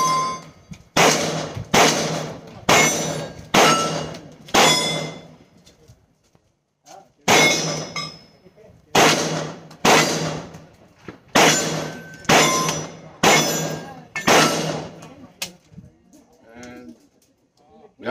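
A Stribog SP9A3 pistol-caliber carbine fires at targets: sharp, loud shots in two rapid clusters, about five then seven, each with a ringing decay and pauses between groups.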